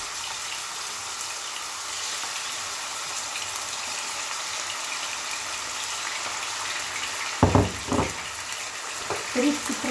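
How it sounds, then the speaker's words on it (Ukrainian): Steady sizzling of chicken frying in a hot pan fills the clip, with a few clattering knocks and stirring noises near the end. "Сковорідка розігрілася, викладаємо наше"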